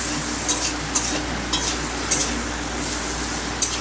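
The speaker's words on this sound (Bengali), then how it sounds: "এখন মশলাটাকে আমি সুন্দর করে কষিয়ে এখন মশলা কষার মধ্যে দিয়ে দিব" Spice masala for a spicy country chicken curry frying in a pan, with a steady loud sizzle and a spoon clinking and scraping the pan at irregular intervals.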